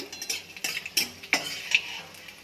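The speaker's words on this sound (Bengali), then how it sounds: "কড়াইতে তেল দিয়েছি, তেলটা গরম হয়ে গেছে। ফোড়ন দিলাম" Whole spices go into hot oil in a kadai for tempering: a metal spoon clinks and scrapes against the pan in a few sharp taps over a faint, soft sizzle, heard up close without speech.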